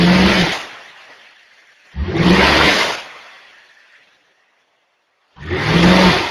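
A car engine revs hard in three separate bursts while a scan tool reads RPM for diagnosis, each rise easing back down, with a short quiet gap before the last rev.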